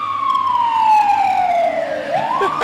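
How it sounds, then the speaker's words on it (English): A wailing siren sweeps downward in pitch, then starts rising again, sounding from a moderate distance over a low background rumble. "You hear them sirens?"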